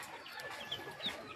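Chickens held in a backyard battery cage cluck and murmur softly, with a few brief higher calls rising over a steady, low farmyard hiss.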